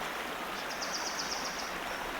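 Water flowing steadily from a waterfall, a continuous broadband rush at even loudness with a faint rapid high chirping pattern riding on top midway, no voices.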